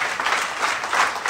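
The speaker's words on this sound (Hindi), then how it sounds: "एक बार जोर से हो अल्लाह करके, जोर करके तालियां बजाएंगे आप।" Crowd applause at a direct selling marketing seminar, loud and dense with a steady rolling texture, rising and falling slightly in short surges.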